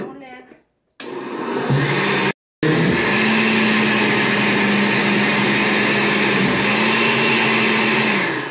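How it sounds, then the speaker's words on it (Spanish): A blender whirs loudly and continuously, grinding a mango gelatin mixture with vanilla, after a brief start-stop at the beginning; close and steady with no talking over it. "Y la llevamos a moler."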